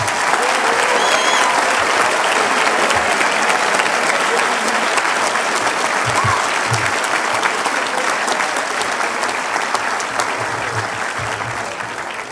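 A large commencement crowd gives sustained, loud applause for the graduating alumni class of 2024 at an academy ceremony, a dense, even wash of clapping with faint cheers mixed in that eases slightly near the end.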